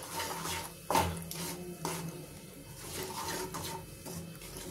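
A spoon scrapes and clinks in a pan while wheat flour and fenugreek roast in ghee for methi laddoos, with several sharp metallic knocks over a low, steady background of stirring.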